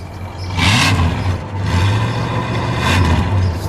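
A 1964 Chrysler 300 Silver Edition idles with a low rumble, then its engine is revved twice, each blip swelling and settling back, heard close with no talk.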